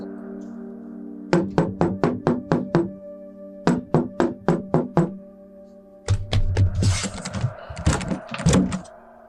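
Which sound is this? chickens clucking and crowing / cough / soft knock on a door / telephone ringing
soft knock on a door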